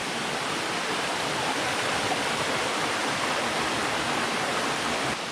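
The Szepit waterfall on the Hylaty stream in the Bieszczady mountains pours in a constant, dense rush of falling water, loud and close, with no pauses and no voices.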